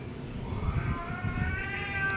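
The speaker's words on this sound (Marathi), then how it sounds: "मांजरांच्या भांडण्याचा आवाज, आता" Cats fight outdoors on an evening, giving low continuous growls and strained yowls at a moderate distance, with no talk over them.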